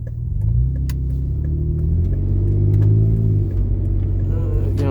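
A Toyota FJ Cruiser with a dual chamber exhaust, still cold, rumbles steadily at about quarter throttle, a deep, close drone that swells slightly mid-way before easing back.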